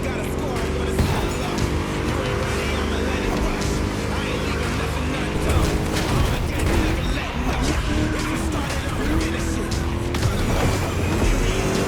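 A car laps a track in the racing game The Crew Motorfest, its engine droning loud and continuous with shifting revs, and game music or effects layered under it.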